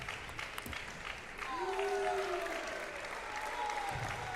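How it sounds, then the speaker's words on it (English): A team bench at a table tennis nationals cheers and claps in a brief distant burst, fairly faint behind a commentator's voice. "You can hear them cheering."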